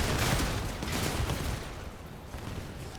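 Gunfire in the vehicle combat game Crossout from a cheap 500-coin gun, a dense rapid burst of shots that is loud at first and then eases into a softer continuing rattle, with no speech.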